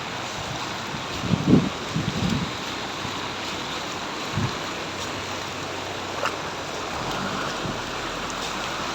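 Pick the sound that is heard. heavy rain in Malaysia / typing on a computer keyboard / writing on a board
heavy rain in Malaysia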